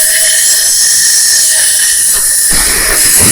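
Steady compression hiss leaking past the valves of a Royal Enfield Himalayan 450 engine under a damage check, a continuous close airy rush throughout that roughens and deepens briefly near the end.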